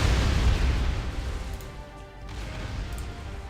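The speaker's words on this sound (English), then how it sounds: "That's a proper bombard." Heavy low booms and crashing rumbles of planetary bombardment in the space strategy game Distant Worlds Universe, loud at first and then easing into a steady rolling roar with no talk.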